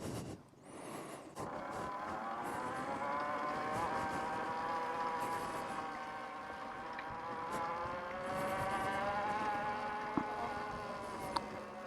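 An Energica Eva Ribelle electric motorcycle is pushed over wet grass, giving off a steady, close electric-motor whine with a faint whir that holds for the whole stretch, and nobody speaks.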